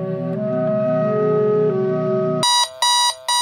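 A gentle melodic tone plays, then a loud electronic alarm beeps in three sharp, repeating bursts.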